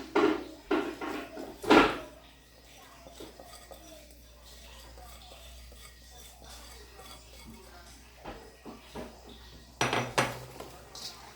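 Chicken barbecue marinade being mixed in a bowl, with clinks and scrapes of a utensil against the dish in short bursts at the start and end, quieter rustling in between and soft talk.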